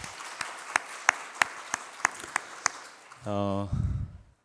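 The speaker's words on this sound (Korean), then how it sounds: "우리 하나님 앞에 영광의 박수 먼저 올려드리도록 하겠습니다" A church congregation at a Sunday worship service claps in a steady, evenly spaced rhythm of sharp single beats, then the clapping stops and a short sustained voice or tone takes over.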